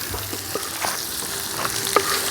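Potatoes frying with pork belly, hunting sausages and mushrooms being stirred in a pan: a continuous close sizzle with scraping stir strokes, no voices.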